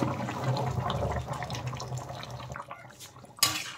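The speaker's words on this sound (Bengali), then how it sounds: "আমি আগে থেকে গরম জল করে রেখেছিলাম, সেই জলটা আমি দিয়ে দিলাম, পরিমাণ মতো দিয়ে দিলাম জল।" Hot water poured into a simmering chicken curry with potatoes: a steady close splashing, gurgling stream that runs for a few seconds, then tapers into lighter trickles and a final clink of a vessel.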